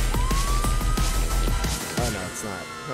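Police car siren in Garry's Mod, a rising wail sounding steadily through the clip beneath game noise, with a voice talking over it.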